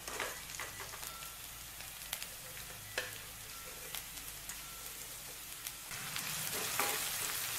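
Garlic and onions sauté in a pan for spicy noodles, a steady soft sizzle with faint clicks and scrapes of stirring, moderately quiet and continuous with no talking.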